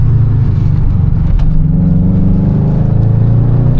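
A 500 bhp Subaru estate car accelerating hard on a greasy road, its engine note loud and close, droning steadily through the gears with a brief blip of rev matching partway through.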